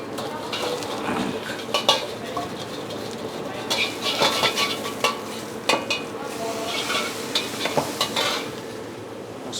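Nasi goreng is stir-fried in a busy restaurant kitchen wok as mustard greens and cabbage go in, with steady sizzling and repeated metallic clanks and scrapes of the spatula against the pan, near and continuous.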